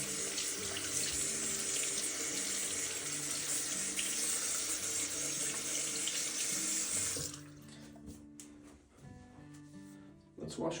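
A bathroom tap runs steadily into the sink for about seven seconds during face washing after a shave, then the flow stops, leaving quiet splashes and dripping.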